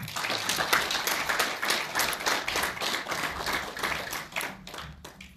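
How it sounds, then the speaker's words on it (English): Audience at a live political broadcast event clapping steadily, a dense run of claps lasting several seconds before tapering off, with no talk over it. "that clap, I believe, is for me"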